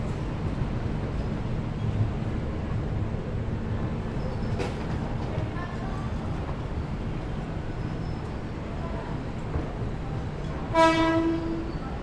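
The Argo Semeru passenger train arrives at a station platform, rumbling steadily in the distance, with a brief high clank midway and a loud horn blast near the end over a constant low hum.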